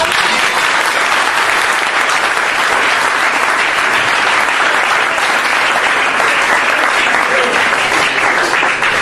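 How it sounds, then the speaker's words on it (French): Congregation applauding at a French-language church sermon, loud dense steady clapping that continues throughout, with faint voices mixed in. "Je vous l'acclame, acclamez bien."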